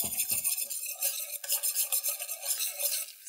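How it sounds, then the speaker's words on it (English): Butter melts in a pan while a utensil stirs it, giving a soft, hissing bubble and gentle swishing that rise and fall in waves, with a few low knocks at the start. "So, melting my butter."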